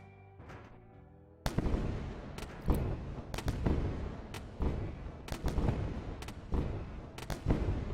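Heavy gunfire blasting open a ship in Wayward Terran Frontier: after a brief quiet lead-in, dense booming shots and impacts pound on repeatedly and loudly.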